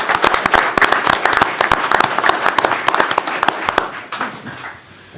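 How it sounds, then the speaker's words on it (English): A room at a city board of directors meeting breaks into a round of applause, dense, close clapping that holds steady for several seconds, then thins out and fades near the end. "Let's give Stephen a round of applause."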